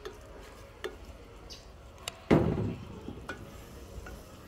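Saltfish is stirred in a pot during backyard Jamaican cooking, with light scrapes and taps followed by one louder, denser scraping burst partway through against a soft background hiss.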